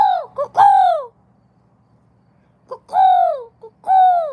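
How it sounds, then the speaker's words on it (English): Loud, close bird calls from a cuckoo-like bird, three clear descending hooting phrases: two in quick succession at the start, then a pause, then two more spaced phrases, with a faint low background hum. "What kind of birds are these?"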